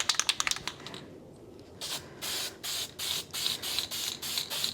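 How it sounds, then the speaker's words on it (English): Krylon metallic gold spray paint from the DIY series hisses from the can in short close bursts: a quick flurry of rapid puffs, a pause, then a steady run of evenly spaced sprays. "Now we're gonna use this metallic gold by Krylon in their DIY series. We are going to spray just a little bit."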